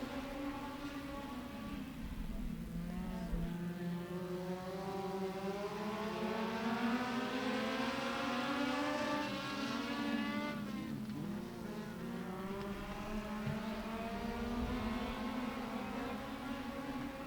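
Several race cars in a heat race at Beckley Motor Speedway roar side by side down the front straightaway, engines droning loud and steady with rising and falling pitch as they pass close by.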